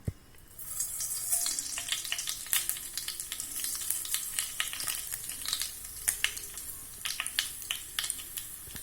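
Mustard seeds spluttering in hot sesame oil in a kadai, a dense continuous crackle with many sharp pops scattered throughout, close and fairly loud, no voices.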